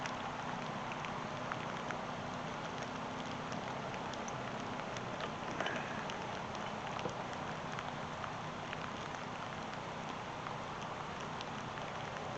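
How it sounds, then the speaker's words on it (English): Steady outdoor rain falling on surfaces, a constant even hiss with scattered drop patters, moderately close and unbroken throughout, with no voices. "I didn't know it's going to get rainy."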